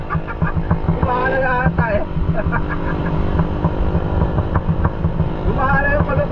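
Suzuki Raider 150 motorcycle with a stock carburetor, its engine running close by with a loud, continuous drone and repeated revs rising and falling, while someone talks briefly over it.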